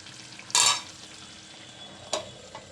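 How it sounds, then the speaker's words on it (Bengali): Meat pieces with neck, head and gizzard are stir-fried with spices. A sudden loud sizzle burst is followed by quieter frying and a couple of short stirring scrapes. "ঘেটি, মাথা, গিলা সব কিছু দিয়ে ময় মশলা দিয়ে কষিয়ে নিতেছি"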